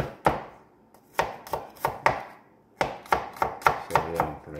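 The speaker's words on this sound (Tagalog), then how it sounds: "At so yung bawang hiwain nyo lang siya ng maliit na ganito." A knife chops garlic into small pieces on a cutting board, crisp close taps in uneven bursts with short pauses between runs and no talk.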